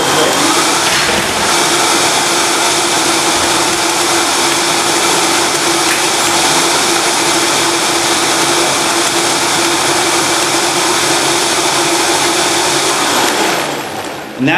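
A blender runs on high, whirring a raw vegan tomato soup in one loud, steady roar that lasts well over ten seconds before cutting off abruptly.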